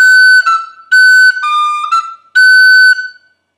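Tin whistle plays a tongued, slightly swung phrase from the reel The Connachtman's Rambles, clear separated notes in three bursts with short gaps, close and loud, no voices.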